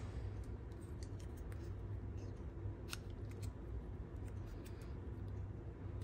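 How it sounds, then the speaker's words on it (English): Scissors snip apart folded paper pieces for a salt-dusted science craft, giving a few quick crisp cuts close by over a quiet background hiss. "you're just gonna cut these apart like this. And I'm gonna snip these off"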